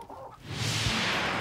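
Chickens cluck briefly at a renovated barn in rural Britain, a short burst set against a steady, fairly loud background hiss.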